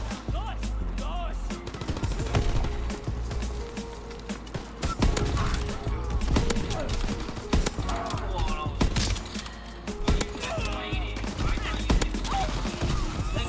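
Sniper rifle gunfire on the new Nuketown map in a WWII Call of Duty game, with repeated sharp shots and dense battle noise throughout, while a player talks over it.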